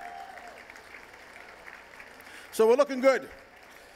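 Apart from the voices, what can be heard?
audience applause at charity event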